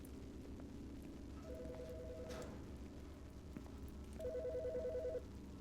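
Telephone ringing in the video game Autopsy Simulator, two separate electronic trills a few seconds apart over a low ambient hum with steady rain-like noise.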